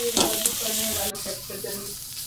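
A spoon stirs cooked cauliflower keema in a hot pan, giving a soft scraping sizzle that goes on steadily and close for a couple of seconds.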